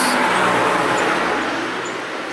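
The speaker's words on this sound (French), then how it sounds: "Oh, il y a une voiture qui arrive." A car on an island road is heard as a broad, fairly close roadway rush that swells loud and then gradually eases off.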